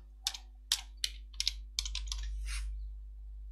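Keys tapped on a computer keyboard while configuring SQL Server database mirroring, a brisk run of about a dozen close, crisp clacks in short bursts over a low steady hum, with no talking.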